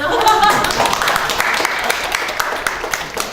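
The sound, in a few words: audience clapping during a lecture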